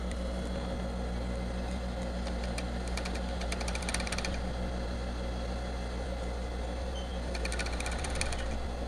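A domestic sewing machine stitches fabric for a wireless bra with side reinforcement, its steady motor hum broken by two short runs of rapid, rattling needle strokes.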